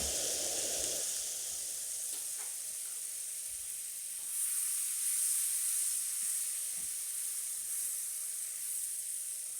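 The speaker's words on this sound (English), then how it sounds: "And I'm gonna add my onion. And we're just gonna cook this until it's a little bit translucent." Onion sizzling steadily in melted butter in a pan, a loud continuous hiss up close with a few faint clinks, no talking.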